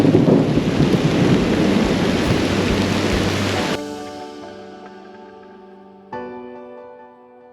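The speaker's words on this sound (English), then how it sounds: "Huge hail balls, thunder," Heavy rain and large hail pour down loudly on the John Muir Trail, then give way to a long, fading rumble of thunder, followed by a second softer roll.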